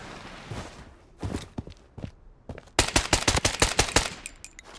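Gunshots in the shooter game Blood Strike ring out as a few sharp isolated cracks, followed by a quick string of rapid, evenly spaced shots, close and punchy against a quiet background.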